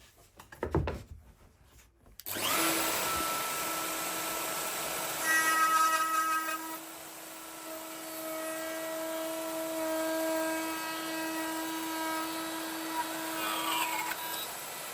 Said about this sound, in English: continue that cutout shape, and I can do that with the 10-minute workshop router multi-jig